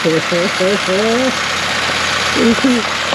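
A vintage Pontiac straight-eight engine, partly choked after sitting 51 years, idles with a steady low rumble while someone speaks over it.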